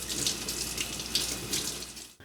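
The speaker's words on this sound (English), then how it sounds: "Preparing a hot pot dinner is complicated. We need to wash a lot of vegetables." Tap water runs steadily from a faucet into a sink while vegetables are washed for a hot pot dinner, a continuous close splashing hiss that cuts off abruptly at the end.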